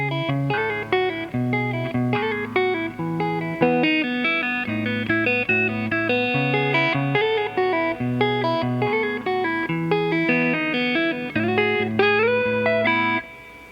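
Electric guitar riff from the verse of a song, with repeating picked notes and octave pull-offs to the open low E, played steadily and up close, alone without talk.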